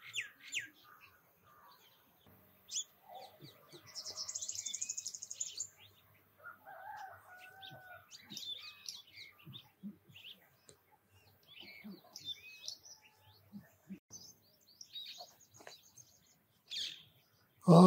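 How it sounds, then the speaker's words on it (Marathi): Several kinds of birds chirp and call in scattered bursts by the Dhom Dam reservoir at sunrise, mostly faint and spread out, in an otherwise quiet outdoor setting. "विविध पक्ष्यांची नुसती गडबड चालू आहे"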